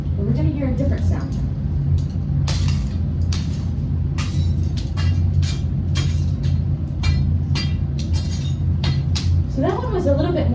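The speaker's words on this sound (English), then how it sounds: "What does that sound like when the lava breaks?" Cooled lava, brittle like volcanic glass, cracking and breaking apart in a series of sharp, scattered glassy clinks and snaps over a steady low background hum, with faint voices.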